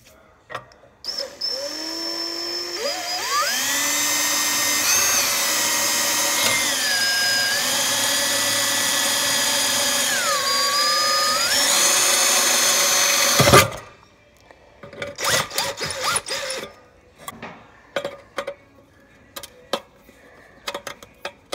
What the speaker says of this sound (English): What I'm doing is drilling a hole so I can make a little standoff.